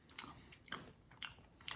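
Crisp homemade food, such as a burrito wrap or egg tart, is bitten and chewed with three sharp, close crunches spaced evenly apart, each followed by quieter chewing.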